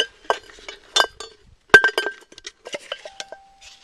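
Metal cup, a bottle of denatured alcohol fuel and a small stove made from an aluminum can clink and knock together in a series of close, sharp taps and rattles, outdoors in the Oregon Badlands.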